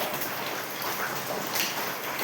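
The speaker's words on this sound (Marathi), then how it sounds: "इतका डेंजर पाऊस झालेला आहे." Steady, dense hiss of heavy rain pouring down on a house with a damaged sheet roof and flooding inside, constant and loud throughout, with no voices.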